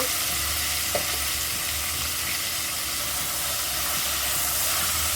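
Two medium potatoes, cut into small pieces, fry in a pan, giving a loud, continuous sizzle and hiss that stays steady throughout, with a brief stir near the start and no voices.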